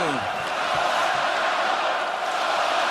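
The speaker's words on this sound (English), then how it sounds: "And the crowd in a frenzy." A packed hockey arena crowd at a Penguins–Canadiens Stanley Cup playoff game roars in a loud, continuous frenzy, dense cheering and yelling with no break.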